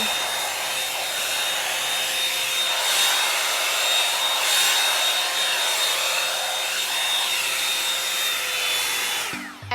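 A Revlon One-Step hot air styler blows on its cool setting, a steady close whooshing hum with a faint whine that runs evenly before clicking off abruptly at the end.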